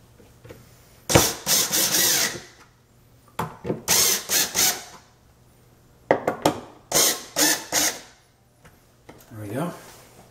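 Power tool tightening fasteners during assembly of an IKEA Micke drawer unit, in several close bursts of whirring and ratcheting separated by short pauses.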